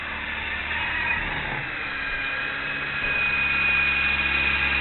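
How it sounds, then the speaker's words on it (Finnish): A Revell Big One Pro radio-controlled helicopter flies outdoors close by, dusting leaves with its downwash, giving a loud, continuous whirring motor whine with a steady high tone and rushing air noise throughout. "Ja tosiaan tää pölyttää lehtiä mukavasti tää kopteri."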